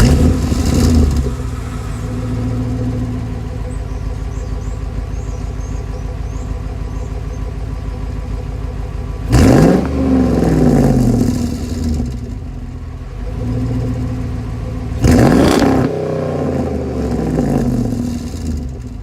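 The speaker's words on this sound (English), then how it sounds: "The exhaust, if you guys were wondering, there is a muffler, but it is fairly loud." A truck's engine idles through a muffled but fairly loud exhaust, with a steady rumble broken by two sharp revs, heard alone with no talk.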